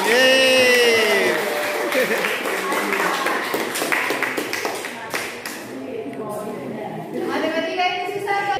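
Children clapping in a classroom after a maths exercise, a loud burst of applause with cheering voices at the start, then scattered claps and taps under continuing children's chatter.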